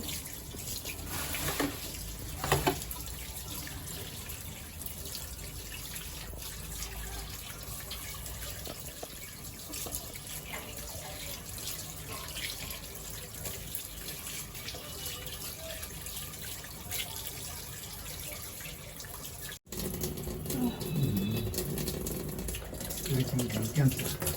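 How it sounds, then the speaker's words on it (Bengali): Water runs steadily from a tap in a continuous rush while chickens are washed, with a few splashes and clinks of handling near the end. "মুরগিগুলো সব ধুয়ে নিলাম আমি এখন একটু পানি ঝরুক"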